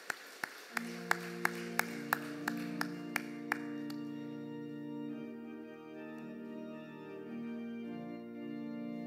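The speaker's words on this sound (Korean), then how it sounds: "은혜의 주를 우리 하나님께 박수로 감사합니다" During a Sunday morning church service, the congregation claps in steady unison, about ten sharp beats over held organ-like chords, then the clapping stops and the music swells alone.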